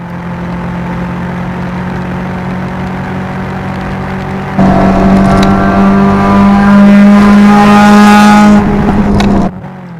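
A loud race car engine at High Plains Raceway, a Mazda RX-7, drones steadily, then surges louder as it revs and passes close by before dropping away.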